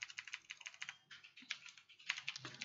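Quick, light keystrokes rattle on a computer keyboard while a web address is typed, a fast irregular patter of close clicks with brief pauses, fairly quiet overall.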